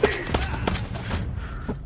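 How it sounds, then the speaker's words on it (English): Gunfire in the shooter game Vigor: several loud single shots ring out at uneven intervals, close and sharp, with brief thuds between them and faint talk underneath. "Keep shooting at him."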